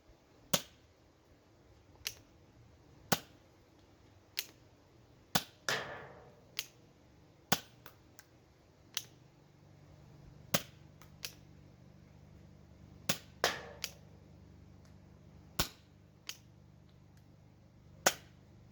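A Nerf blaster fires foam darts on an outdoor range, about twenty sharp, dry pops at irregular intervals over a quiet background, with no talking.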